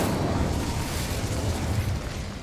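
A fire-casting Incendio spell in Hogwarts Legacy lets out a loud, sustained fiery blast with a deep rumbling roar and crackling burst that fills the whole moment, with no talking over it.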